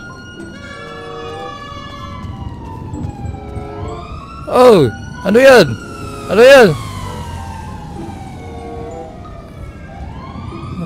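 A police siren in the video game GTA V sweeps up and down in long steady wails throughout, fairly close and loud, while a man breaks in mid-clip with a few short excited exclamations.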